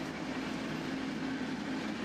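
A train rolls along the rails through Railroad Pass near Boulder City with a steady low rumble and rushing noise, even and continuous, with no voices.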